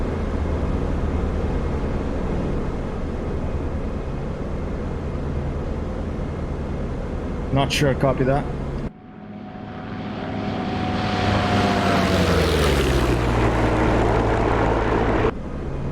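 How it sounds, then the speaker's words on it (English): A simulated P-47 D30 Thunderbolt radial engine drones steadily in flight in DCS, a loud continuous propeller roar that briefly cuts out and returns with a rising then falling pitch sweep; a short radio voice speaks over it. "the P-47 has the best sound of any plane in IL-2, and now I can say that in DCS, it has the best sound"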